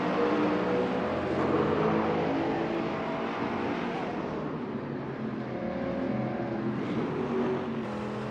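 GT3 race cars lapping Maple Valley in a racing video game, their engines a steady, loud, continuous roar that swells and dips slightly as the cars hold close together, with no voices over it.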